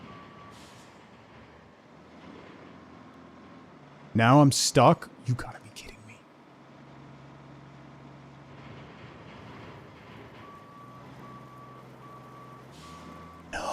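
Electronic reversing beeps from a truck backing up in the driving game RoadCraft sound as a steady series of evenly spaced tones, following a loud burst of thumps and clatter, while someone talks over the game.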